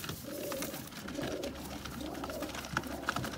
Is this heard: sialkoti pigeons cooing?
yes